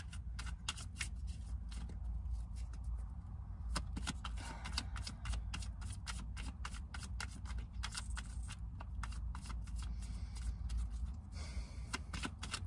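Tarot cards are shuffled continuously at close range, a dense run of rapid riffling flutters and soft slaps that goes on without pause; no one speaks.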